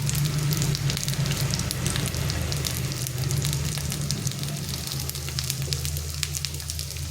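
Cabbage and egg fry over low heat with a steady, even sizzle and scattered crackles close by, continuing without break and with no one speaking.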